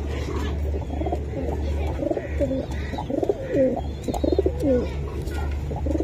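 Pakistani Teddy pigeons coo steadily in a farm loft, soft repeated throaty calls over a low constant hum, with other birds chirping faintly in the background.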